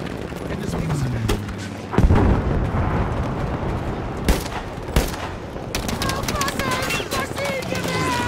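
Battlefield V multiplayer battle noise with a heavy grenade-like blast standing out among scattered shots and further thuds, close and loud over a constant rumbling bed.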